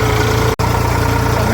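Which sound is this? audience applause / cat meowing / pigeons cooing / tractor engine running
tractor engine running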